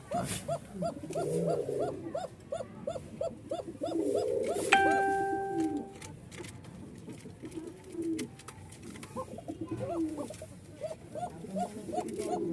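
Pigeons of fancy breeds in a loft cooing repeatedly after a male and a female are released, rhythmic throaty calls throughout at moderate distance, with a brief higher whistle-like tone and faint background sounds.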